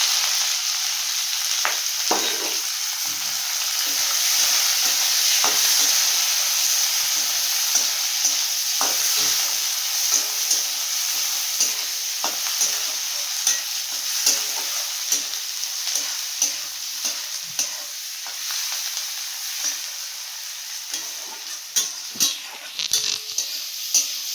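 Onion sizzles in hot oil with cloves for a dal and dried fish dish, a loud continuous frying hiss broken by repeated stirring scrapes and light clinks of a utensil on the pan.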